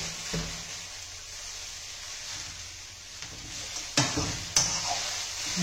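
Hakka noodles and vegetables being stirred in a pan over a steady sizzle, with a few sharp utensil scrapes and knocks toward the end.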